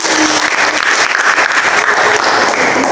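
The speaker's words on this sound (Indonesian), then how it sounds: "Bagus sekali, tepuk tangan untuk Messi." Classroom applause for a student, a steady dense clatter of many hands clapping close by, sustained at an even level for several seconds with a faint murmur of the class beneath.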